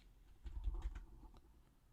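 Quick, soft clicks of typing on a computer keyboard, a short burst of several keystrokes in the middle, faint and close, with no talk.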